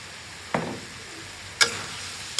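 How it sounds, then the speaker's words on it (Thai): Long beans, onion and chili peppers being stir-fried in a pan, with a soft steady sizzle broken by a few sharp scraping clinks of the utensil against the pan, close and without talk. "จากนั้นก็ผัดต่อเล็กน้อย"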